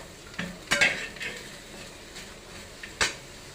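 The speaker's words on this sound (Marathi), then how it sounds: "आता कांदा चांगला लालसर भाजून घेऊया" Onion roasts in a pan under a low sizzle, broken by a few sharp scrapes and clinks of a spatula or spoon against the metal, close and fairly quiet.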